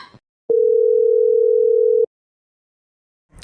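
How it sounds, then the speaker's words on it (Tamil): A phone sounds one loud, steady electronic tone lasting about a second and a half, clean and unbroken, with silence before and after. "அவளே போன் அடிச்சுட்டா பாரு"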